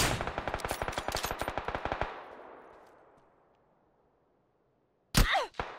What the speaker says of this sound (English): Oh, someone else shooting me.